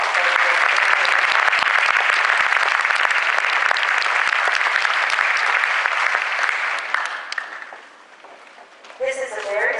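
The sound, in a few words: audience applause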